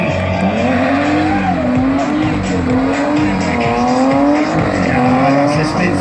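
Monster truck engines roar loudly at a show in Weil am Rhein, with a wavering, revving exhaust note and tire squeal rising and falling continuously.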